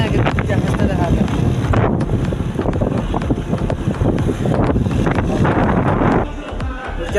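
A motorboat ride on open water, with heavy wind buffeting the microphone and a loud rushing roar of engine and water that runs throughout, easing off near the end.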